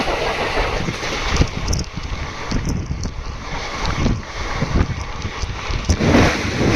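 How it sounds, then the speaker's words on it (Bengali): A train pulls out of Bagnan station at night with a steady rumbling roar and rushing noise. Occasional knocks and rattles ride over the roar, close and continuous. "ছেড়ে দিয়েছে ট্রেন বাগনান থেকে"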